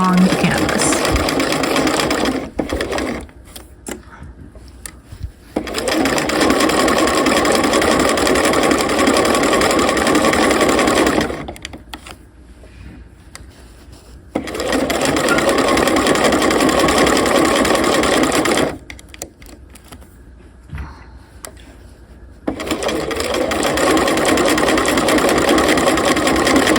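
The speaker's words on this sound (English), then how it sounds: "I did my back stitch, and I'm just going to sew right along the canvas." A sewing machine stitches along the canvas of a half-scale jacket in long whirring runs, loud and close, stopping twice for several-second pauses before starting again, with quiet talk in the gaps.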